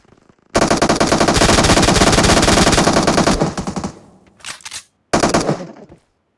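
Rapid automatic gunfire in the PUBG Mobile video game, loud and close, with a long sustained burst, then a short pause and two briefer bursts.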